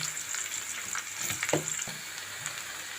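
Onions lightly frying in oil in a pan, a soft steady sizzle with scattered pops and crackles, close and fairly quiet, with no talking.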